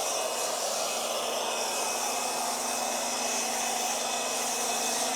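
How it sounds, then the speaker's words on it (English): A pressure washer runs steadily for a car wash outdoors in the snow, giving a constant loud broadband hiss and motor hum with no pauses and no talk. "I gotta turn on my pressure washer"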